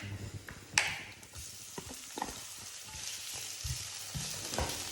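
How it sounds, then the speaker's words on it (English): Garlic stir fries in a pan before raw prawns go in, with a quiet continuous sizzle broken by scattered clacks and scrapes of a utensil against the pan. "So I'm just going to stir fry my garlic for a minute, and then the prawns are going in."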